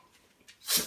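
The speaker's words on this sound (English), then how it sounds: "Why do you keep sneezing?" One sharp, close sneeze from a pug dog bursts out near the end after a moment of soft snuffling.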